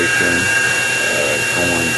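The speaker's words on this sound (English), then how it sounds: "ready to do this drilling operation" A drill bit bores steadily through a workpiece and a sheet of 3/8-inch plywood while building a quarter-scale ProStreet Beretta shifter, giving a continuous close grinding whine.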